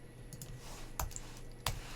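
Computer keyboard being typed on while coding, a few sparse, soft key clicks with two sharper taps standing out over a quiet room hum.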